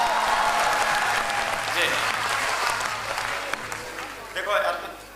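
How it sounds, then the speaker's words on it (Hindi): Audience applause at a Hindi kavi sammelan poetry evening honouring martyrs, a full crowd clapping loudly and steadily throughout, with a voice speaking briefly over it. "यार अगर अच्छा बच्चा लग रहा हूं तो थोड़ा बहुत ताली बजा दो शक्ल के लिए"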